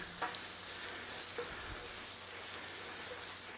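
Flour stirred into softened onions frying in a pan for a sausage and mash pie filling, a steady close sizzle and crackle with a couple of scraping stirs and light taps, no voices.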